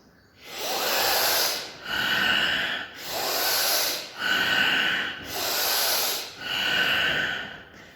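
Forceful Bhastrika pranayama breathing: six loud, rhythmic breath cycles of full, hissing inhales and pushed exhales, close and steady with brief pauses between, no talk.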